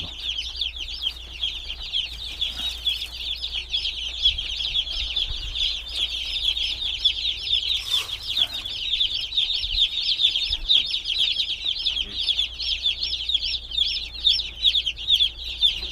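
Several broiler chicks cluck and peep continuously close by, a busy chatter of soft calls with faint rustling and no speech.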